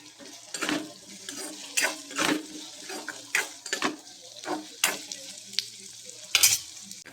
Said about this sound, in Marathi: कांदे थोडेसे सॉफ्ट झाले आणि ह्या स्टेजवर मी आता मिरच्या टाकल्या.